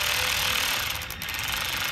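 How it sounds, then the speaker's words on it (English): A power tool rattles and ratchets continuously as it hand-tightens a bolt on a Triumph Tiger/Sprint ST motorcycle clutch with a soft aluminum cover, close and loud with a brief dip midway. "now I'm just hand tightening this with the power tool"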